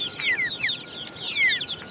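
Chickens cluck and chirp in short repeated calls close by while eating sugarcane, with soft background noise.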